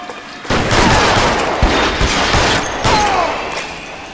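Sustained automatic gunfire from a machine gun in the L.A. Noire video game, loud and close, with dense overlapping bursts and a few heavier booms, heard without talk.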